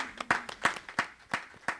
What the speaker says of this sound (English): I think that does deserve a big round of applause